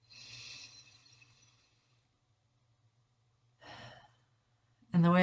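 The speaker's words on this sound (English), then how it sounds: "So take one more cleansing breath." Two deep cleansing breaths, a long airy exhale followed after a pause by a shorter one, close and soft over a faint low hum, then a voice starts speaking at the end.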